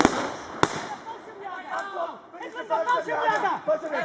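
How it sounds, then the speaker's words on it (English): Grenades go off at a WWII battle reenactment in a park, two sharp, distant bangs in the first second, then crowd chatter and a commentator's voice take over. "You'll see there's some grenades."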